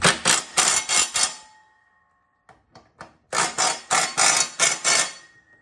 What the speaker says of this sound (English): just go ahead and reattach these with our